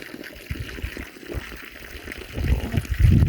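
Spring water flowing outdoors on Mount Tsivi, a soft continuous trickle and gush with low splashing surges growing louder toward the end, no talk.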